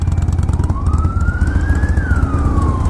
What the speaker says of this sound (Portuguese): É uma ambulância, parece.